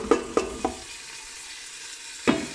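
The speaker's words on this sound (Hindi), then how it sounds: "अब हम इसके अंदर अदरक लहसुन डाल देंगे।" Ginger and garlic frying with onion in a pan: three quick spatula scrapes and taps over a low sizzle, a quiet simmering pause, then one more stir near the end.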